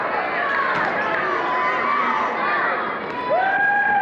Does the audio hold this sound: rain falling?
no